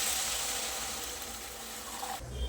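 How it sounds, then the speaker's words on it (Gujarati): Water poured into a pan of vegetable manchow soup makes a steady, close rushing splash that shifts near the end. "હવે એમાં પાણી ઉમેરીશું."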